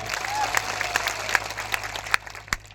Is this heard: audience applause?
yes